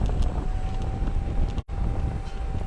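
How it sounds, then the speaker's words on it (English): Wind buffets a microphone outdoors during a ride in Brisbane, a continuous low rumbling roar with gusty fluctuations and one brief dropout, no voices. "I hope you can hear my voice because it's very windy here."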